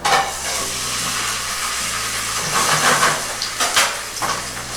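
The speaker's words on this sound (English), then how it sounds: "You can hear that sizzle." Loud, steady sizzling and hissing of a seasoned chicken breast frying in a hot pan, a continuous crackling wash with occasional sharper spits.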